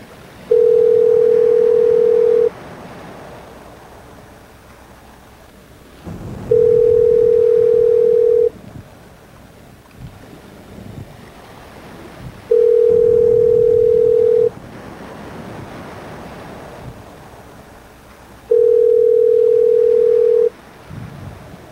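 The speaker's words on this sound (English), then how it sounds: "So here, let's call Marquise" A telephone call being placed gives a steady electronic tone that sounds in four evenly spaced bursts of about two seconds each, separated by longer pauses, over a faint background hiss.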